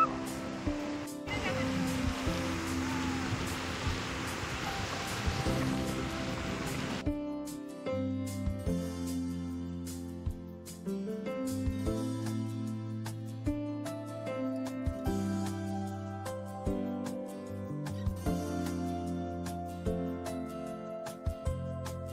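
Ocean surf at Mandarmoni beach washes in as a broad, steady rush for several seconds before it gives way to tuneful background music that carries on to the end.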